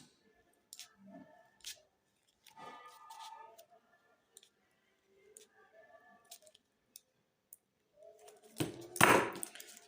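Scissors trimming fabric for a revamped slip, a few scattered snips and rustles close by, ending in a louder burst of crisp cutting near the end.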